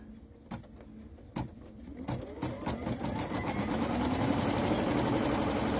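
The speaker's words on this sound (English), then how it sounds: "now it is going to stitch the turkey's arms." An embroidery machine stitching a turkey's arms, opening with a few separate knocks before settling into a fast, steady mechanical chatter that grows slightly louder and holds close by.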